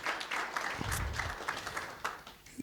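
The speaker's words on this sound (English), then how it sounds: "Can we give him another round of applause?" An audience at a digital government workshop gives a short burst of applause, many hands clapping together in a moderate, dense patter that thins toward the end.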